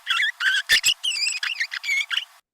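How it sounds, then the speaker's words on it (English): Song of an early young canary: a run of about a dozen short chirps and warbled syllables in quick irregular succession, clear and close, with no other sound. "so that's the song of an early young canary."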